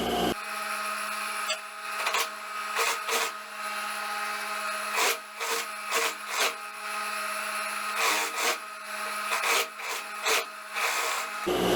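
A sewing machine stitches the lining of a long wrap dress, running in a steady close whirr interrupted by short pauses and restarts, with no voices.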